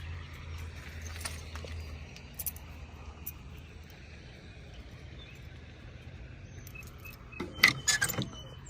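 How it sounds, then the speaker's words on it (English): Car keys for a Trans Am jangle in a couple of brief clusters, loudest near the end, against quiet background noise. "let me grab the keys."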